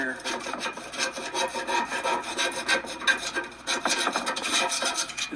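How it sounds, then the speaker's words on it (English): An old pharmacist's pill-scraping tool scraping rust off metal HVAC parts, a continuous close rasping scrape in quick back-and-forth strokes, fairly loud with no speech. "using this old pharmacist tool that they use to scrape pills into bottles. It comes in pretty handy for scraping rust"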